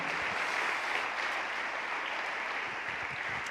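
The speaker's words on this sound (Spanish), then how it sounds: "Dele un aplauso al Señor" A church congregation applauds after a sermon line, a dense, steady wash of clapping from many hands that fills the room evenly and continues throughout without a break.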